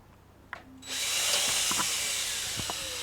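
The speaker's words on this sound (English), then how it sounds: "Drill it to 3mm." A power drill bores a 3mm hole while fitting a ramp mechanism on a Bruder toy model, starting after a light click and a brief whir, then holding a loud, steady high-pitched whine to the end.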